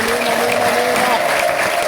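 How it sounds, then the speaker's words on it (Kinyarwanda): Church congregation clapping together in a steady wash of applause, with a sustained tonal voice or instrument line running underneath throughout. "mu mushimire umwami wacu w'umuha amashyi"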